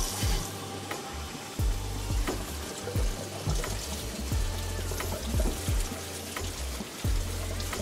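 Water flushes and pours through the heater matrix of an MG Midget's cooling system, a steady rushing trickle with intermittent splashes and drips throughout.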